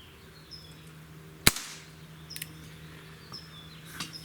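A single sharp crack from a Walther CP88 air pistol firing, loud and close in a quiet setting, followed by faint clicks and small noises.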